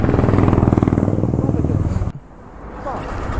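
A Honda Hornet 160R motorcycle riding out on a road trip toward Kanyakumari, its engine droning loud and close with a steady pulsing beat before dropping abruptly to a quieter, softer rumble.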